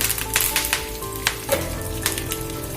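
Curry leaves sizzling in hot coconut oil after mustard seeds have popped, for a Kerala-style dry prawn and mango curry, giving a steady close crackle with a few sharper pops and no talking.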